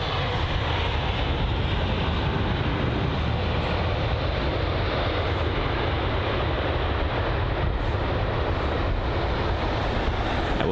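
A Boeing 777 airliner at London Heathrow, its engines a steady, loud broadband roar that fills the whole stretch without a break.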